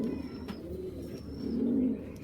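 A black-necked pair of Giribaj pigeons coo nearby in soft, low, throaty bursts, one swelling louder toward the end, with faint chirps in the background.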